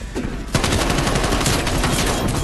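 Rapid close-range automatic fire from an AK74U in Call of Duty Black Ops Cold War on PS4, a loud, continuous stream of shots after a brief quieter lead-in.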